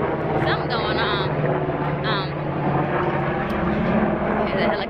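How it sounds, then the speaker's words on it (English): Helicopter flying overhead, a steady loud rotor and engine drone that fills the scene while a person talks over it. "Here's a helicopter."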